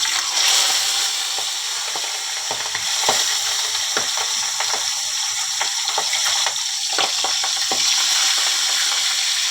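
Milkfish dropped into hot oil in a pan, a loud, steady crackling sizzle with sharp pops and spits throughout, close by.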